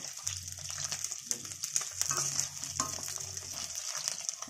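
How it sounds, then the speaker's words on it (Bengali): Small pakora-sized chicken pieces deep-fry crisp in hot oil for Chicken Manchurian, giving a steady, moderately loud sizzle with faint bubbling and occasional stirring. "ভাজা হয়ে গেছে, কড়া কড়া করে ভেজে নিয়েছি, তুলে নিচ্ছি।"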